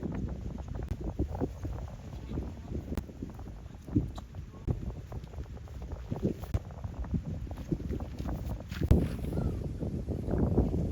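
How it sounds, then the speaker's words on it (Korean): Strong gusts buffet a backpacking tent on an island campsite, a low, uneven rumble of wind bursts with irregular flapping thumps, and muffled voices faintly underneath. "바람이 많이 불기 텐트가 계속 이렇게 휘어요"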